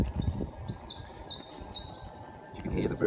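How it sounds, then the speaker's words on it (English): Small birds chirping in thin high phrases in the woods, fairly faint against a low steady hum and rumble from an electric unicycle in motion. "You can hear the birds and the nice gentle hum of the motor."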